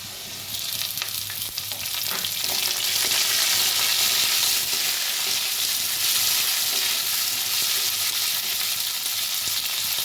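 Green peas and softened radish frying in a pan: a dense, loud sizzle that swells after the first second and then stays steady and close, with no talk.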